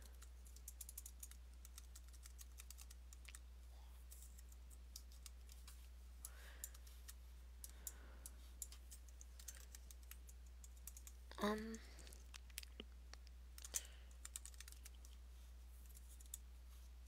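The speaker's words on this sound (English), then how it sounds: "Just type whatever you want." Text is typed on a computer keyboard in quick, irregular clicks of soft keystrokes, close and quiet, with a brief louder rustle partway through and no one talking.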